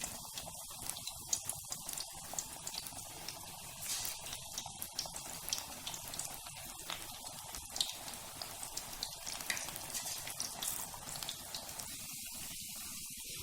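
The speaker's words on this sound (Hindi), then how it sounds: "घी अच्छे से गर्म हो चुका है, हम एक एक करके सारे पकौड़े इसके अंदर डाल देंगे" Palak pakoras fry one by one in hot ghee, giving a quiet, continuous crackling and bubbling sizzle with scattered small pops throughout.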